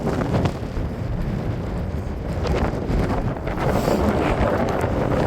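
Strong wind buffeting the microphone on an exposed Yorkshire hilltop during a hike, a loud continuous roar with gusty swells and no voices.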